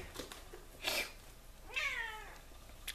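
Indoor house cat meowing close by, a couple of short calls followed by a longer, clearer drawn-out meow, with quiet room sound between them.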